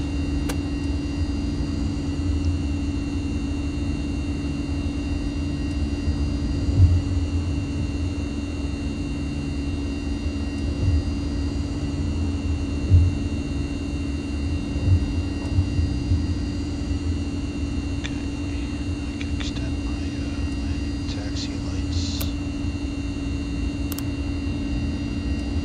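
A Mitsubishi MU-2 turboprop in Microsoft Flight Simulator holds a steady, loud engine drone with a constant hum throughout, as on a takeoff roll, with faint high tones and small bumps near the end.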